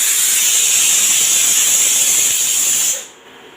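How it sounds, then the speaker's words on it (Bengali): A pressure cooker cooking dal lets out a loud, steady hiss of escaping steam, like a sustained whistle. It cuts off abruptly near the end, leaving faint background. "সিটি দিয়ে দিয়েছে ডাল।"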